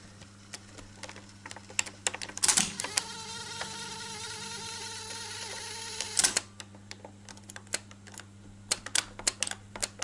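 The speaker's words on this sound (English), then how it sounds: "Just trying the rewind." A Sony TC-177SD cassette deck under repair, rewinding tape: a steady mechanical whir runs through, with louder clunks of the transport engaging and stopping, and a scatter of small clicks and taps around it, close up.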